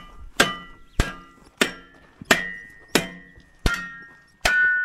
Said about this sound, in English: now you take the hammer and bend that around as we go